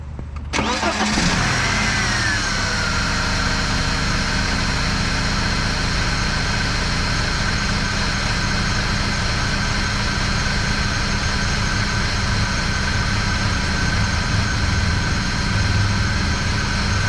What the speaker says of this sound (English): Seems to be idling all right.